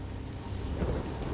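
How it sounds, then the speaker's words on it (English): A stormy coastal scene in Elder Scrolls Online: High Isle gives off a steady roar of wind and rough sea with rain. The noise is dense and continuous, swelling slightly midway, with no voices. "No ship can reach us through this storm."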